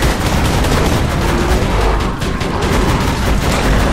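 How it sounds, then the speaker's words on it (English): Automatic gun turret fires continuously in Borderlands 2, a dense, loud, steady stream of rapid gunshots holding at full intensity for the whole stretch with no pauses. "Auto gun deploy!"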